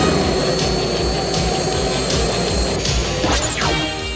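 Cartoon seaplane roaring past in an action scene, a loud droning engine with thumping impacts and a whining pitch sweep near the end, no talk.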